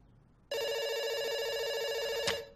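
A loud, sustained telephone bell ring starts abruptly and holds steady for about two seconds, then fades. It is heard in a heist video game and stands alone without talking.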